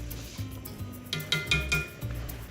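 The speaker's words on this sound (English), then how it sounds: "And now we're gonna add the lentils." Washed lentils go into a soup pot with a few quiet clinks and knocks of metal and glass around the cookware, soft and close, with no talking.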